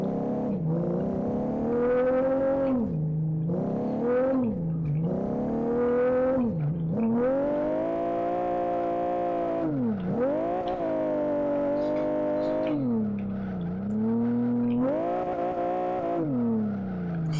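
Racing car engine revving hard through repeated rising and falling sweeps, with occasional tire squeal, in a Blackwood car drifting on snow in the Live for Speed driving game; loud, continuous and close, with no talking.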